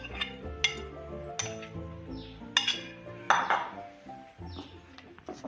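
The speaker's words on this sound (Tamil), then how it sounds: "இதோட இந்த சாக்லேட் மிக்சரை நாங்கள் மிக்ஸ் பண்ணுவோம்" Chocolate brownie batter being stirred in a bowl, with a utensil clinking and scraping against the dish in repeated bursts, close and fairly quiet, with no talk.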